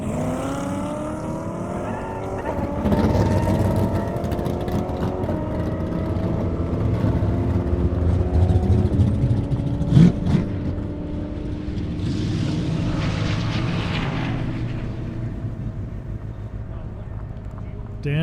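A Camaro and a Corvette roar down an airstrip drag strip, engine tones rising and sweeping as they run, heard at a distance beneath steady commentary from an announcer.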